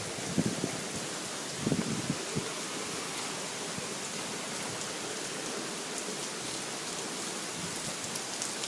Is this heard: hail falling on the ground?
yes